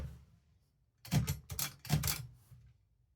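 Clacking keystrokes on a manual typewriter during a bold and underline demonstration, heard as three or four sharp, close strikes in quick groups over a low background hum.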